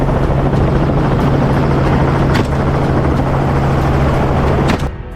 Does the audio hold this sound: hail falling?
no